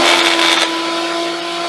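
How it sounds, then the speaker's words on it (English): A running DeWalt DW735X planer has a loud, steady motor whine. A brief rough, rattling burst as the drive belt breaks is followed by a smoother hum as the machine keeps spinning. "That would be the belt from the motor to the blade that just went kaput."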